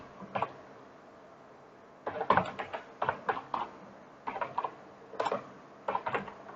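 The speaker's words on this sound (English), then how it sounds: "you will type his name, then address, then email ID" Keystrokes on a computer keyboard while filling in a student registration form, coming in short rapid bursts of clicks separated by pauses, fairly close and clear.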